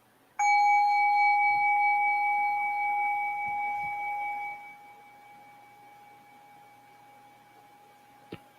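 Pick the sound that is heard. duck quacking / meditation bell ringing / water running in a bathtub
meditation bell ringing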